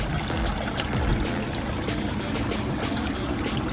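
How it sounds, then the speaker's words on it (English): A small DIY backyard waterfall with a foam-sealed build rushes and splashes in a steady, close, continuous wash of falling water with no talking. "and there's the waterfall."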